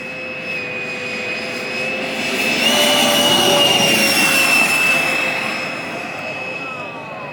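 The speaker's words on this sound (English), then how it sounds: "he's going to be flying his big jet" A 1:4 scale Northrop T-38 Talon model jet flies past at an airfield, its turbine giving a loud, high whine with a broad roar that swells as it nears, peaks, then fades slowly as it moves away.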